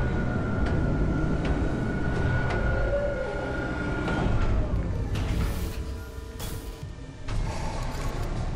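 A damaged tram car in the Dead Space Remake game being replaced: a loud, steady mechanical rumble with a faint tone, then rising metallic hisses and clanks as the car arrives and settles.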